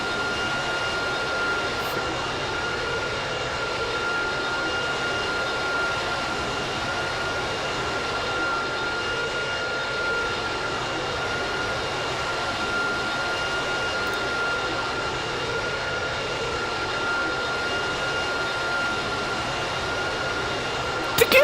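An airplane engine drones steadily through a flight simulator game, a loud continuous jet hum with a fixed whine on top that holds unchanged for the whole stretch, with no voice over it.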